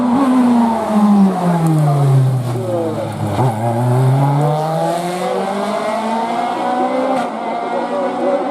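A Norma CN2 race car launches from the start line of the Turckheim Trois-Épis hill climb, its engine roaring loudly and climbing through a series of rising gear sweeps as it pulls away, with a commentator talking over it.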